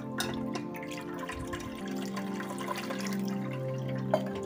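Fresh chhena for rasgulla being rinsed and swished in water, with soft sloshing and dripping throughout alongside a steady tonal hum, fairly close and without any talking.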